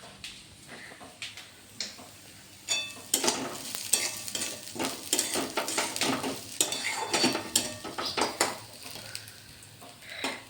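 Onion frying in a pan for pohe at a home breakfast, heard as a steady sizzle with repeated clinks and scrapes of a spoon stirring against the pan, close and fairly loud, with no talk.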